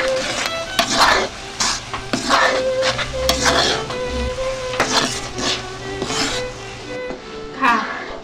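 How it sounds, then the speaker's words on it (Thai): Rambutan flesh simmering in sugar syrup while being stirred, a bubbling sizzle under repeated scraping and clinking of a utensil against the pot, with a faint voice at times. "เราก็เคี่ยวแบบนี้ไปเรื่อยๆจน น้ำตาลก่อกับเนื้อง้อนะคะ"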